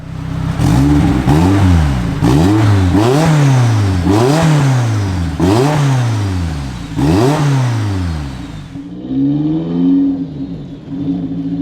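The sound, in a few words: turbocharged van engine accelerating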